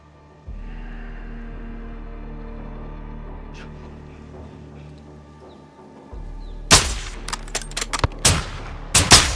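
Sharp, loud game gunfire from Call of Duty Modern Warfare 2 on PS5: a cluster of close shots with short echoing tails bursts in after a low steady hum, several cracks in quick succession.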